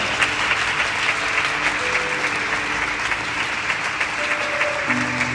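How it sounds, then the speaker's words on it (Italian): Sustained applause from an audience at the inauguration of a school sports centre in San Severo, Puglia, filling the whole stretch at an even level with faint tonal sounds rising near the end. "un applauso, mi pare"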